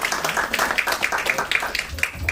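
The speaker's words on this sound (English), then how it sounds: "a round of applause for your" Audience applause at the launch of a digital delivery center in Bhubaneswar, dense steady clapping with a few louder claps standing out, a voice speaking over it.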